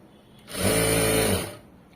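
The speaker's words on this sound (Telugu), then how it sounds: "ఇలా స్ట్రేట్గా స్టిచ్ చేసుకుంటూ వెళ్ళిపోవాలి ఇలాగా" A sewing machine runs a straight stitch along an extra cut piece of cloth, a steady close whirring hum that swells in about halfway through, holds for under a second and then stops, with no talking over it.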